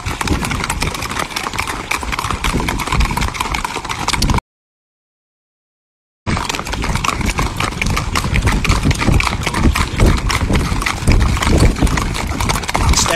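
Horse hooves clip-clop steadily and close during a ride with a group of riders, keeping a rapid even rhythm that breaks off for about two seconds of silence and then resumes.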